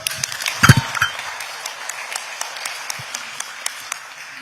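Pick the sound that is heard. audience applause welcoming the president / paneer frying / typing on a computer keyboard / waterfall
audience applause welcoming the president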